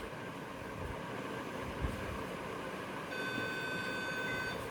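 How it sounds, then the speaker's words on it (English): A steady electronic beep tone from a Monopoly Electronic Banking unit starts partway through and holds over a constant hum of background noise, fairly faint. "press and hold C2 button until you hear a beep"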